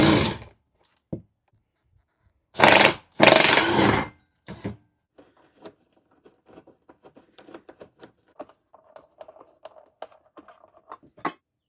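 A tool removes 16mm hex head bolts from the bumper of a Jeep Wrangler JL. Two short, loud whirring bursts come close together, followed by scattered light clinks and handling noises.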